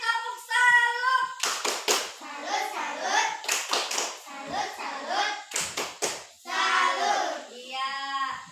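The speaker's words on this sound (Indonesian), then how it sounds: "Kasih tepuk salut." Primary school children in a fourth-grade classroom chant together and break into short bursts of rhythmic group clapping for a salute cheer, the claps landing in several quick clusters between their voices.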